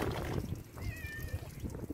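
A white cat gives a single short, high meow in a village setting near a wood fire where sugar beets are cooking, faint and close amid low background rumble and brief muffled voices.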